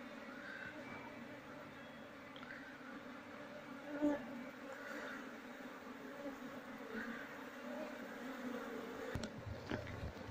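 An Apis cerana honey bee colony, being moved from a nest in a children's play area into a hive box, gives off a faint, steady buzzing hum, heard close by with a few soft knocks and no talking.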